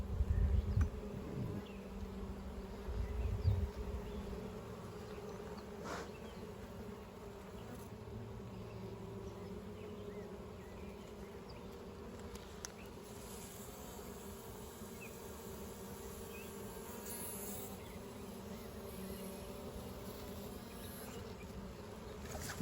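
Honey bees buzz around an open hive during a sunny-day frame inspection, making a faint, continuous, droning hum.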